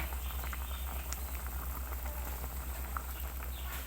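A pot of snakehead fish soup with herbs simmers on a gas stove, a steady low bubbling and patter running evenly throughout, close and moderately loud with no voices.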